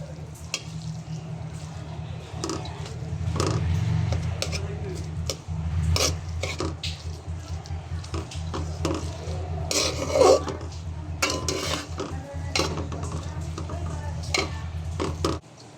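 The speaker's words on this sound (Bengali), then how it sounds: "এই যে আলুটা গ্রেট করে রেখেছিলাম এখন ওটা মিশে মিশিয়ে নিতে হবে খুব ভালো করে" Grated potato is mashed and stirred into fried beetroot and vegetables in a pan for beetroot chops, with repeated scraping and stirring strokes over a low, steady hum; no one speaks.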